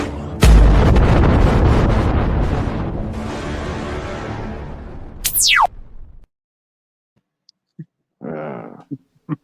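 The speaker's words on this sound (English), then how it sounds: "I like that nuclear explosion in there" A loud explosion sound effect bursts in with a heavy boom and a long roaring rumble, then a sharp descending whoosh before it cuts to silence, followed by a few brief sounds.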